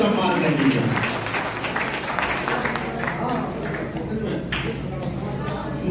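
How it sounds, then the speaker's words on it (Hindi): A hall audience at a poetry gathering gives loud applause that gradually thins over several seconds, with voices talking over the clapping. "जोरदार तालियों से सम्मान कर दीजिए।"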